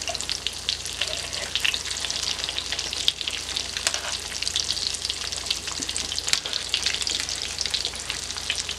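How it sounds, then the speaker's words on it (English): Croquettes made from home-canned roast beef fry in hot oil with a steady, dense crackle and scattered pops, with occasional soft scrapes as they are gently turned. No voices. "We're going to just flip these very gently"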